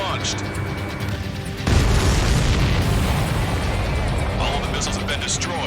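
Missiles blow up in Ace Combat 7, heard first as a low rumble under a quieter stretch, then as a sudden loud blast. The booming explosion fire holds strong and slowly tails off.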